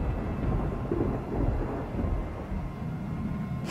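Thunder from a lightning storm, a heavy low rumble rolling on steadily throughout, loud and close with no voices.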